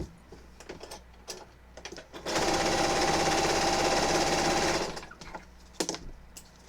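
A sewing machine stitches a quilt in one steady, rapid mechanical run of about two and a half seconds, loud against quieter handling clicks and thumps before and after.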